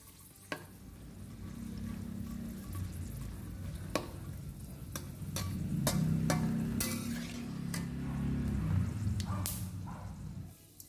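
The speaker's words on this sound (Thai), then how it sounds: "พริกแห้งนี่ก็อย่าทอดให้สีเข้มจนเกินไป" Dried chilies fry in hot oil with a steady soft sizzle, broken by sharp clicks and taps of a utensil stirring the pan; fairly quiet and close, with no talking.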